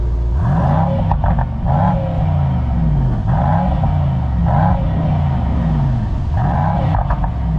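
A Mercedes-AMG E63 S engine revs repeatedly from outside the car. Loud, close bursts rise and fall in a steady rhythm of about six pulses, with clattering exhaust crackle between them.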